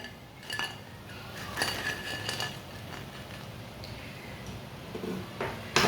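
Dishes and cutlery clink and tap sharply as freshly fried egg-and-flour pakoras are moved onto a plate in a home kitchen, a scatter of close, light knocks with no talking.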